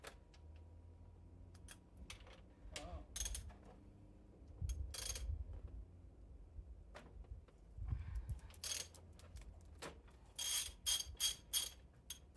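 Ratchet clicking in short bursts while working on a supercharger belt with a manual tensioner, irregular ticking and metallic clatter close by, with pauses and mechanical clunks between bursts.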